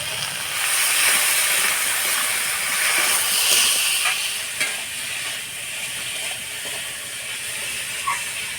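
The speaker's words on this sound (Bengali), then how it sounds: "মশলা দিয়ে আলু বেগুনটা ভালো করে নাড়াচাড়া করে নিলাম।" Potatoes and eggplant with turmeric, salt, ground spice paste, cumin and chili paste fry in a pan, giving a steady loud hiss with occasional scraping stirs and small clicks.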